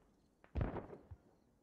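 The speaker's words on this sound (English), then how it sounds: "More smoke mortars blocking off lines of sight." A single deep mortar blast from the Squad battlefield game booms at close range, with a short rumbling tail and a faint later thud.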